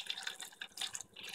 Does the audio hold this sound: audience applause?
no